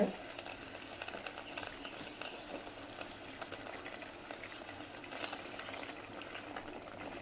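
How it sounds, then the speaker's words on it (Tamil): Hot water splashes and streams steadily into a tumbler of rice for several seconds, a soft continuous pouring hiss with a brief louder surge near the end. "இப்போ அதில் சுடு தண்ணியை ஊற்றிடலாம்"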